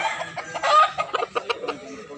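A year-old Super Brown Red gamecock for sale in Cebu gives a quick series of short, sharp clucks in an uneven rhythm, close and fairly loud, with no one talking over it.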